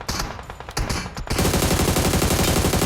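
Rapid automatic gunfire in PUBG Mobile: scattered sharp shots at first, then a loud, continuous burst of close machine-gun fire filling the rest of the clip.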